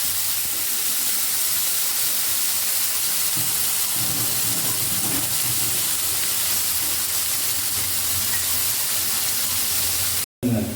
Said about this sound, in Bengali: আলুগুলো কিন্তু ভালো করে ভেজে নিতে হবে।